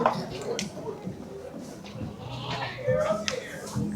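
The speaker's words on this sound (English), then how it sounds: "That's a sheep." A sheep bleats a few times nearby while it eats at a barn festival and a person talks over it, with some rustling and chewing noises in between.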